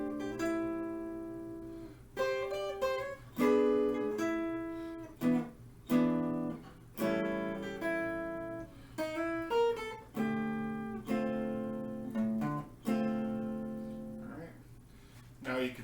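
A guitar picks a melody in short plucked phrases with ringing notes and brief pauses between them, close and clear with no voices.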